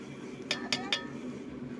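Lid set on a cooking pot of tomatoes for a village-style cucumber curry, three quick, quiet metallic clinks in succession over faint background hum.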